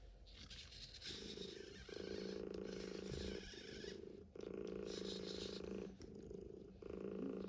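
A Metacat robotic pet cat from Elephant Robotics purrs in steady rhythmic pulses, each a low buzzing swell with brief gaps, close and soft, with faint background noise.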